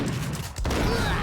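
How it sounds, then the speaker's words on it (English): A shotgun blast in Max Payne, one loud close shot cracking out midway through a short burst of gunfight noise, with no voices. "now we gotta go back to the shotgun"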